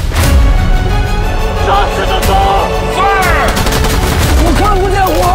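Gunfire in a firefight from a Chinese sniper war film, with loud, dense, continuous blasts and rumble filling the scene, mixed with score and shouted voices.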